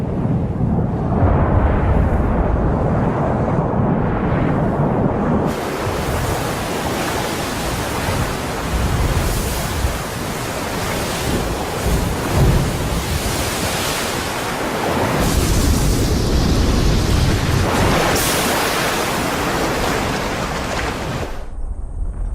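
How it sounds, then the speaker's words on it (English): Ocean waves and a volcanic eruption make a loud, continuous broadband roar that surges and swells in waves, close and heavy, with no voices. "Formed by a chain of volcanoes, they emerged from beneath the ocean."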